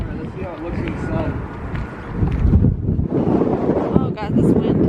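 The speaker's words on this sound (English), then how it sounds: "Oh my god, wow, it's very windy." Strong wind buffets the microphone in loud low rumbles throughout, with people talking and exclaiming over it.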